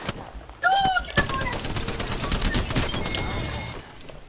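Rapid bursts of gunfire from the video game Apex Legends, sounding at close range, with repeated sharp shots dense through the middle; a voice briefly talks at the start.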